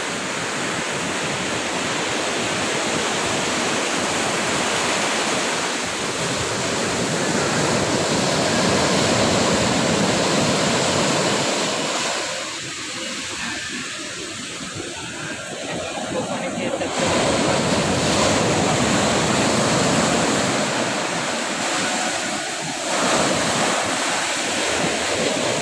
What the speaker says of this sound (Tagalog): sobrang masungit ang dagat